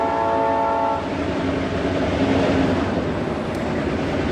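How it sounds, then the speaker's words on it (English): A train passes close by, its horn sounding briefly at the start before a loud, steady rumble and rattle of rail cars rolling past fills the rest, with no voices. "You definitely know I'm live right now because there's a train right behind me."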